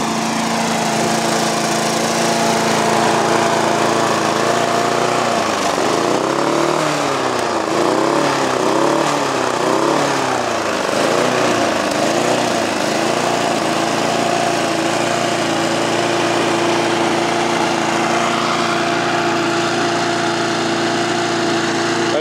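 A SABO lawn mower engine runs steadily and loudly on its own, holding a constant idle-like drone with a brief rhythmic wavering in pitch partway through, after a restart with heavy smoke.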